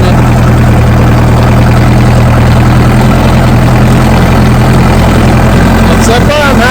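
A Case 580CK backhoe's diesel engine runs loud and steady on hand throttle, with a constant low rumble throughout and someone talking over it near the end.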